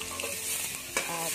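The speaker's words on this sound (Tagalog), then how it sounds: "Gisa na tayo ng bawang." Garlic sautés in butter in a hot pan, making a dense, continuous close-up sizzle with a faint stir or scrape near the end and no talking.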